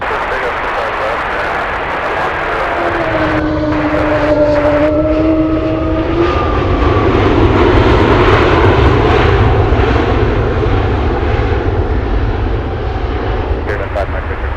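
An aircraft takes off from runway 25 left at Anchorage, its engine roar building and sustained across the clip, with a rising whine and a radio voice faintly in the background.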